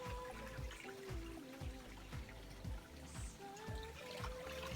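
Seasonal stream along the Appalachian Trail, water trickling and splashing steadily over rocks close by, with a continuous burbling and dribbling texture and no voices.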